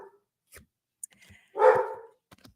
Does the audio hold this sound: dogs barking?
yes